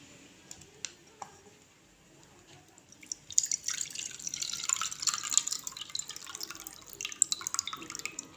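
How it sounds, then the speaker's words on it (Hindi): A few isolated drips give way to a steady trickle and splash of water draining from soaked fox nuts (makhana), uneven and close by, with no talking. "इसका हम पानी निकाल देंगे।"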